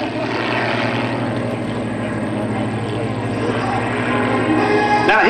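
Iron Eagles aerobatic propeller airplanes roar loudly overhead at an airshow, a sustained, rising engine drone as the planes pass and pull up, steady and close with no break.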